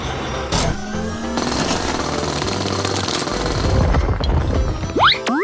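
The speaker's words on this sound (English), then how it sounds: "The drilling machine uses its strong drill to break the big rock." Loud, continuous pounding and rattling of a heavy rock-breaking drill in a cartoon construction scene, harsh and steady, with a brief metallic boing near the end.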